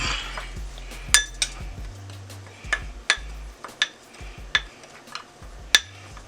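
A spoon stirs rosemary into a sauce mixture in a bowl, making a series of sharp metallic clinks against the bowl at an uneven rhythm, close and clear, over a faint low background hum.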